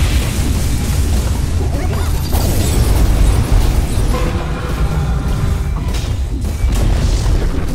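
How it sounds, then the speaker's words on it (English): The Dire's middle tower in Dota 2 is destroyed with a loud, sustained crashing boom and crumbling debris, followed by rumbling explosive noise lasting several seconds. "Dire's middle tower has fallen."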